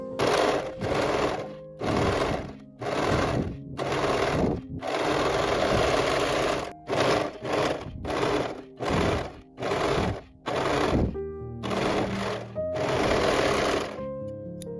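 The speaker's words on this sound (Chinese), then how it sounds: "然后把新的肩膀缝线缝起来" A sewing machine stitches a new shoulder seam on an oversized dress, running in repeated bursts of rapid mechanical whirring with short stops between, fairly loud and close.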